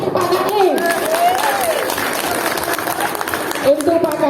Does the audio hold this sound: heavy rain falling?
no